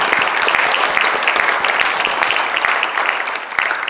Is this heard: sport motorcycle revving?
no